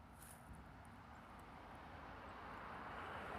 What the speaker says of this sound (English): This is that DHL co-branded 777. It's co-branded with Singapore Airlines.